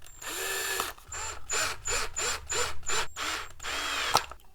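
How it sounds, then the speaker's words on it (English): A power drill whirs in a run of short bursts, stopping and starting repeatedly as it drives screws into a toy kitchen during assembly, close and loud, ending with a sharp click. "I think I'm gonna go ahead and use my drill again."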